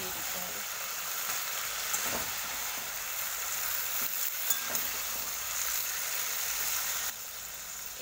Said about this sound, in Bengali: আর জিরে, কাঁচা লঙ্কা খুব সুন্দর নেড়ে এভাবে মিশিয়ে দিতে হবে